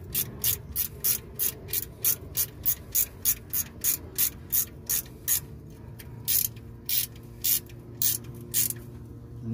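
A ratchet wrench tightens the oil drain plug on a 2014 Ford Explorer with a 3.5 L V6, giving a steady run of crisp, evenly spaced clicks close by, roughly two per second, with no talking.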